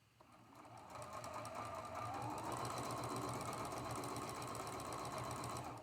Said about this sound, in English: We're going to sew that seam right where they connect, right in the middle, with a 1/4 inch seam allowance.